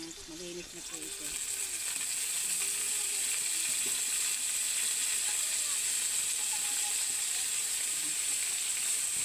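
Fiddlehead fern (pako) sizzling steadily in a hot pan with onion, a loud, continuous frying hiss that swells in the first seconds and then holds even, with a faint voice briefly at the start.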